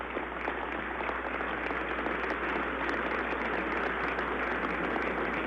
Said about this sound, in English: Let's give one more big round of applause to the 2012 Region Champions